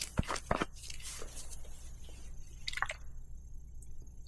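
Goo Gone citrus solvent squirted from a bottle onto a cleaning rag, giving a few short, close wet squishes and spurts near the start, followed by quieter rubbing and faint handling noise.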